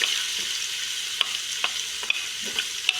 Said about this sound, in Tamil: அதோட இந்த பீ ஆனியன்ஸையும் சேர்த்துக்கிறேன்.